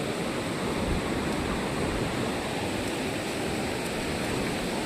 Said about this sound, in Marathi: हे रुद्र आता बघा इथं पाणी आलंय ना.